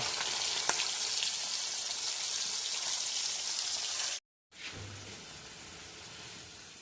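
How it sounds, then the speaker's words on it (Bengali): Rohu fish fries in oil, giving a continuous dense sizzle up close, broken by a brief silent gap before the spattering hiss resumes at slightly lower strength. "মাছটা ভাজা হচ্ছে বন্ধুরা।"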